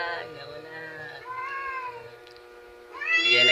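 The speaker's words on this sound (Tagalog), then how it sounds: "Hindi yan nag-aaway guys, ang pusa niya naglalambingan yan guys." Cats meowing to each other on a roof, drawn-out wavering cries trading back and forth at close range, rising louder toward the end, with faint talk in Filipino underneath.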